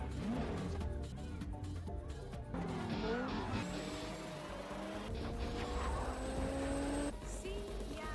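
Race cars in a Fast and Furious street race skid and squeal their tires over a continuous engine roar, with rising whines and screeches layered on top of loud, busy movie-style sound.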